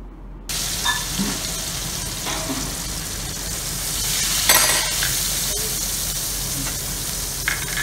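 Mango pachadi mixture poured into a hot pan and sizzling steadily, a loud continuous frying hiss with faint stirring clinks throughout, no talking.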